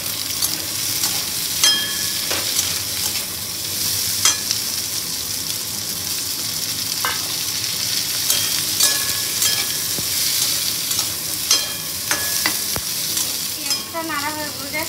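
Large-cut onions frying and being stirred in a pan, with a steady sizzle throughout and repeated scraping, clattering stirs at an irregular rhythm, close and fairly loud, no talking.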